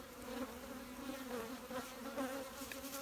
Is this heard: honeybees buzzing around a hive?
yes